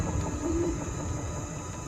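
Soft, low cooing of doves in the wild in Africa, a faint call or two heard over a steady background hum with no speech.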